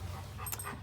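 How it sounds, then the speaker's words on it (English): A dog pants close by in short, breathy bursts, a few quick huffs over a low background hum, with no voices heard. "Sorry, Mose, my dog, is here."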